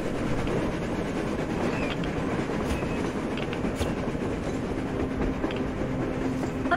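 A train rolls along on the surface in Metro Exodus, a loud, steady rumble of railcars with a low mechanical drone and faint clattering wheels, sustained throughout without speech.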